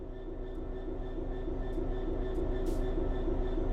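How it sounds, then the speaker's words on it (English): In Train Sim World 3, a train starts to move under throttle, giving a steady, moderately loud low rumble with a constant motor hum and brief faint hisses, with no voices. "Apply some throttle to get the train moving."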